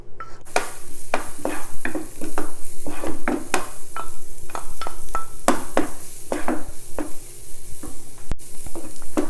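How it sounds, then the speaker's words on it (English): Garlic drops into hot olive oil in a pan and fries with a loud, close, continuous sizzle, punctuated by repeated sharp scrapes and clacks of a utensil stirring against the pan. "The oil is hot. I'm going to add my garlic."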